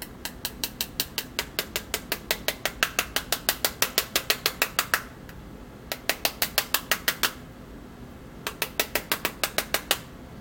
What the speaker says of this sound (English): I can hear the sharp scissors on the glass.